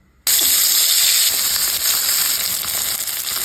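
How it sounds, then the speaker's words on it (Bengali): Tengra fish frying in hot oil with turmeric, starting abruptly with a loud, close, steady sizzle and hiss that continues unbroken without any talking. "প্রথমে মাছটা ভেজে নেব, এর জন্য তেলের উপরে একটু হলুদ দিয়ে দিয়েছি"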